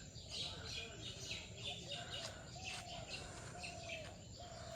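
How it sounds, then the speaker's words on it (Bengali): Morning birds chirp and call repeatedly from a mango tree by a rooftop, a steady chorus of short tweets and warbles at moderate distance, with a faint voice now and then. "সকালে এরকম পাখিতে কিচিরমিচির শব্দ করে ডাকে"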